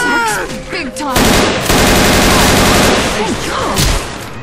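Loud, sustained automatic gunfire from Left 4 Dead 2, with dense bursts rattling almost continuously, while voices shout over the shooting.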